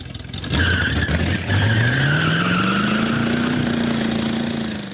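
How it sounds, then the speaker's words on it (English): A junkyard-built hot rod launches from the start line of a drag race, its tires giving a short squeal under a loud, rising engine roar that holds steady, with no talking. "Chicago Fire were worried about spinning the wheels at the start, but with just a squeal"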